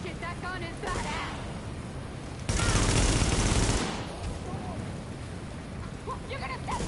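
Sustained automatic gunfire from The Division erupts in a loud, dense burst in the middle, with quieter shots and game noise before and after, and a voice speaking at moments.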